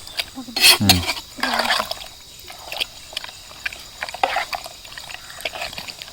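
Water poured into a container while making watermelon sherbet, a bright splashing gush near the start followed by lighter trickling and dribbles, with a little talk in between.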